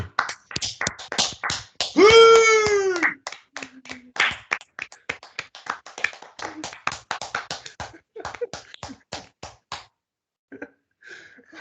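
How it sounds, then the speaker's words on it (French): Small group clapping for Adem after his drawing is praised: scattered, uneven handclaps that taper off, with voices talking and a brief whoop or exclamation among them. "allez, on l'applaudit."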